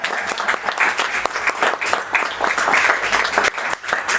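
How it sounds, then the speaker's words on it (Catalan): Dense, steady applause from a literary discussion group's audience, many hands clapping together at close range for about four seconds, with no voices on top. "Un aplaudiment"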